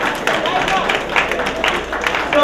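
An audience at a Nigerian Igbo women's gathering claps its hands, a dense, continuous wash of many hands clapping close and loud throughout.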